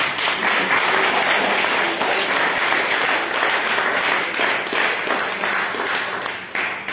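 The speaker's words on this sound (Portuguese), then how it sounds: "Dá uma salva de palmas para Jesus." A church congregation claps continuously at a worship service, a dense, even wash of applause lasting several seconds that tapers slightly at the end.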